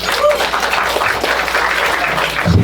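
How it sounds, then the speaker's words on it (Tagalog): Steady applause from a crowd, continuous clapping filling the whole stretch at moderate loudness. "Wala bang palakpak dyan para Carla?"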